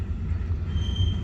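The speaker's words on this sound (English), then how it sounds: "I do apologize for the train in the background." A train rumbles past in the background near a 2007 Ford F-150, a low, steady rolling drone with a faint high whine, no voices.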